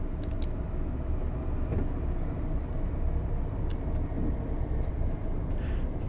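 Simulated train in Train Sim World 4 on the East Coast Main Line, slowing under braking as it nears a station: a steady, continuous broadband rumble with faint high squeals, no talk.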